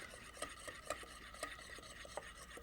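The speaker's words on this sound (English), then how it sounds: "And this then, all hot, gets beaten into these 4 egg yolks." Hot melted syrup is beaten into four egg yolks for chocolate mousse, with a whisk scraping the bowl in a quiet, steady rhythm of soft strokes and small clicks, no voices over it.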